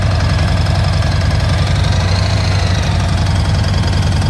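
A motorcycle engine runs at low, steady throttle during slow-speed riding practice, a close, loud, even rumble with a rapid pulsing beat that holds constant throughout.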